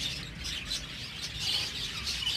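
Exhibition crystal budgies in a breeding setup chirping in a soft, continuous chatter of overlapping high tweets, moderately close.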